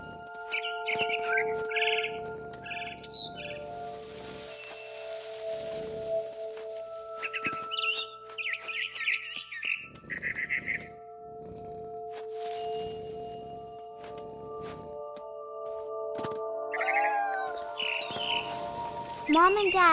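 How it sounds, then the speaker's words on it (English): A barn swallow in the game What Remains of Edith Finch chirps in short bursts of bright twittering calls, separated by pauses, over a quiet tonal musical background with low hums. "Then I heard chirping outside my window. It was a barn swallow going back to her nest."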